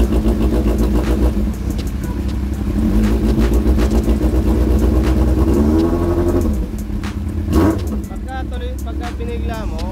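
A Yamaha R1 sport motorcycle idles and runs at low RPM during tuning, a steady loud engine drone with a brief rev blip near the end, under someone talking.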